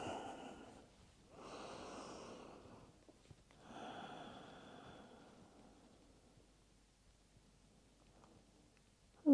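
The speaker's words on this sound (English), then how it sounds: "taking some nice steady breaths here" Slow, steady breathing during a calm yin yoga session: two or three soft, airy inhale–exhale cycles up close, followed by near silence.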